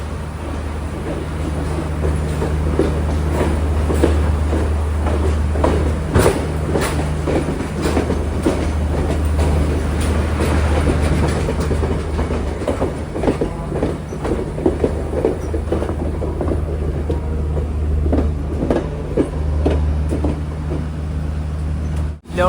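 A night mail train rolls out slowly from Colombo Fort station, a deep steady hum with rhythmic clicks of wheels over rail joints, sustained and fairly loud nearby.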